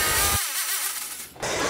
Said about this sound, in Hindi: वहाँ पर अभी ड्रिल से सुराख निकाल रहे हैं ताकि डिवाइस को फिट किया जा सके।